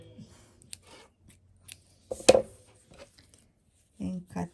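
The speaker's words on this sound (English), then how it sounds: "and cut the yarn." Scissors snip through yarn after a crochet daisy stitch, one crisp close cut standing out amid faint handling noises, with a voice speaking briefly near the end.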